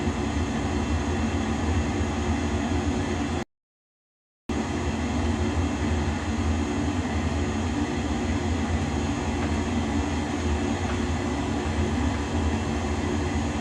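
A Pacific XSTOL turboprop airplane in a flight simulator game taxis to park, giving a steady, loud broadband engine drone that runs throughout with one brief dropout of silence.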